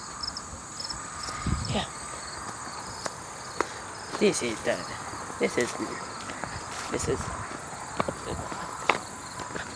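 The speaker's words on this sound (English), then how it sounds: "Jesus, the crickets! Screw you, crickets!" Crickets chirping in the countryside by a lake: a continuous high insect trill runs throughout the clip beneath scattered rustles, footsteps and brief speech.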